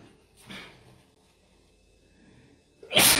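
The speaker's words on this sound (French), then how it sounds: "J'avais pas envie d'éternuer." A single sharp sneeze bursts out near the end, loud and close, after a brief faint sniff and a stretch of quiet.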